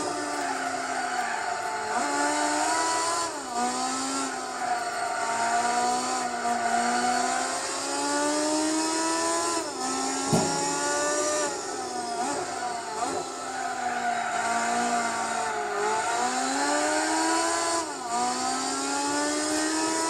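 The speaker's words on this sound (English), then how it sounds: "Oh, this car sounds absolutely incredible." A race car engine in Gran Turismo 4 during an endurance race at Twin Ring Motegi, droning loud and continuous with repeated rises and dips in pitch as it shifts gears and accelerates.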